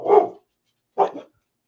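A dog barks twice indoors, close and loud, two short gruff woofs about a second apart with silence between.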